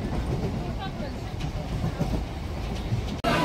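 A passenger train runs between Gopalnagar and Ranaghat, giving a steady low rumble and rattle of the carriages from inside, with a brief dropout near the end.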